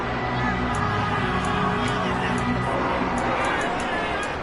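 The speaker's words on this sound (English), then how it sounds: "Plenty of shouts from this crowd as they watch the replay." A football stadium crowd roars and shouts while a replay plays, a dense, loud wash of cheering and voices with high whistles cutting through now and then.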